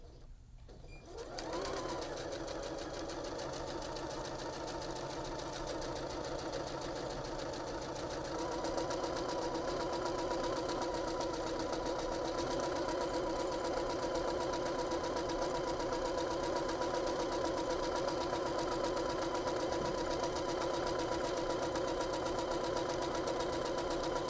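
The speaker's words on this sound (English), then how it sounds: "I'm sewing on the wrong side of the zipper tape, and it's sewing through the 2 layers of the pillow fabric" A sewing machine runs steadily for over twenty seconds, stitching zipper tape through two layers of pillow fabric for a hidden zipper pillow, its motor hum close and continuous with no pauses.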